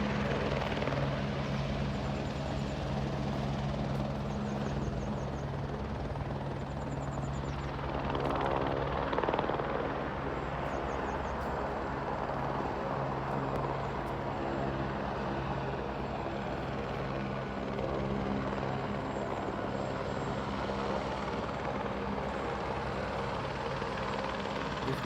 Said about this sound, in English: You can see a chopper is landing here